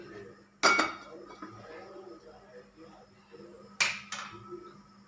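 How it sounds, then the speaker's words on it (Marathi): A metal pan set down on a gas stove, two sharp clanking impacts about three seconds apart over a quiet kitchen background, close and fairly loud against the low hum. "आता मी गॅस सुरू करते आणि आता हा पॅन ठेवते"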